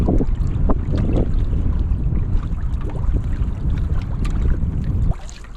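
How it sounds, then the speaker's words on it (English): A sailing kayak cuts through water on the way to Stubbens lighthouse, with steady close wash, splashing and wind buffeting the microphone throughout, easing near the end. "And I'm only paddling to keep the course."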